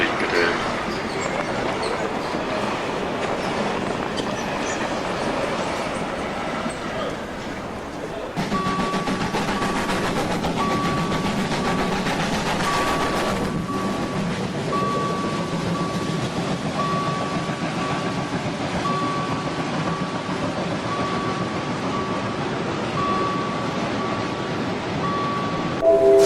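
A long freight train rumbles past on an N-scale model railway with steady rolling wheel noise, a loud rush after a few seconds and a tonal whine, while a German station announcement speaks briefly.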